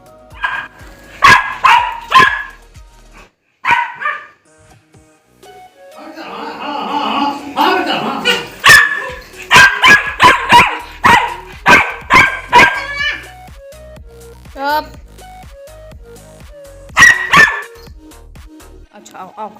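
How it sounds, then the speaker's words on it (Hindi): A dog barks repeatedly in loud, close bursts, some rapid and some spaced apart, with a few yips mixed in, at a home late at night during wedding festivities; people talk in between the barks. "कितना भौंक रहा था।"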